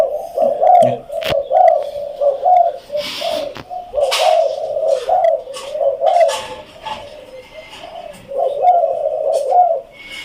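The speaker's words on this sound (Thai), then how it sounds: "พี่โอ่งเป็นนกที่เสียงดังมาก" A spotted dove coos repeatedly in soft, rhythmic phrases, with other birds chirping faintly in the background.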